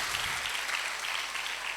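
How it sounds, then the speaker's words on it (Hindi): A church congregation claps for a child during a Sunday sermon, a brief, even burst of many hands clapping together at moderate volume. "इस बच्चे के लिए ताली बजाओ"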